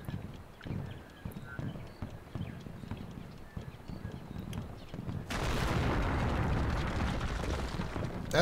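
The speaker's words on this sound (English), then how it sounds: "That was a way better explosion than I was expecting." Explosion from the World War II Combat: Iwo Jima video game as planes are destroyed, a sudden loud broadband blast that swells and then rumbles on steadily after earlier game noise and faint voices.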